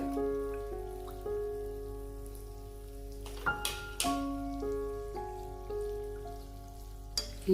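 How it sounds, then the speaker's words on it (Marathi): Anarse sweets deep-fry in hot oil with a faint, steady bubbling sizzle, broken by a few soft pops and clicks, under a quiet background hum. "अनारस नेहमी आपण एकाच बाजूने तळायचं असतं, दुसऱ्या बाजूने त्याच्यावर तेल घालून ते तळून घ्यायचं असतं."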